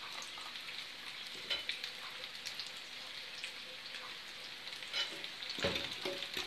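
Omelette with sausages and cheese being stirred in a frying pan: a steady crackling sizzle fills the clip, with a few soft scraping stirs, and no voices.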